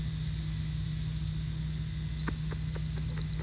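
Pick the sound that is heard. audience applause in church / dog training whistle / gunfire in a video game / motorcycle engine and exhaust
dog training whistle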